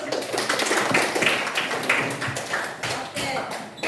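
Classroom applause during a Quran lesson on Surah An-Nisa: a dense patter of hand claps from a group of students, fairly close and steady throughout, with some voices mixed in.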